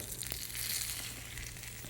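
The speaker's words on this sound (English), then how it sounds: "Now I always like to fry my cumin seeds till they're very dark for this dal" Cumin seeds fry in hot oil until very dark for dal, a quiet crackly sizzle with soft pops and scratches, close and faint.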